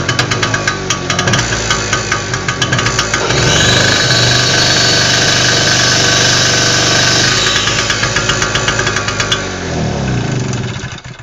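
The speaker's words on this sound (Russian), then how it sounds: "Все, генератор работает" A 1 kW petrol generator runs after carburettor cleaning and repair, its engine holding a loud, steady drone throughout with a slight rise in load partway through and no talk.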